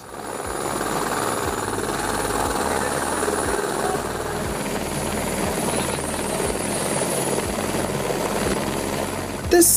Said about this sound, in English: This helicopter came to rescue a tourist who sprained her leg while hiking on a cliff